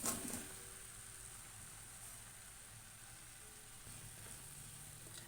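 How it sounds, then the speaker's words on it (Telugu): Cut mushrooms sizzling and frying in oil in a pan for a mushroom and meal maker curry, a steady close hiss throughout with a brief louder splash at the start as they go in. "బాగా వేగాలి ఫ్రెండ్స్ ఇందులో కట్ చేసుకున్న మష్రూమ్స్ వేసుకుందాము"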